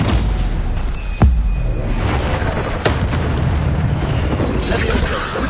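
Stupefy spell blast from Hogwarts Legacy: a sharp booming burst near 1.2 s, followed by a second softer impact around 2.8 s, set against dense, continuous game ambience and effects.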